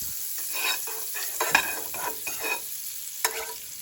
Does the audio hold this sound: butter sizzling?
yes